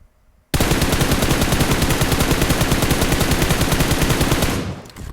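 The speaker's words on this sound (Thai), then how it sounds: "ยืนยิงนะครับผมจะยิงไกลๆตรงเสาตรงนี้นะครับ" M4 rifle fired in PUBG Mobile through a 3x scope from a standing position at a distant pole: a loud, rapid, continuous burst of automatic shots in an even, fast rhythm that runs about four seconds after a short quiet start, then stops abruptly.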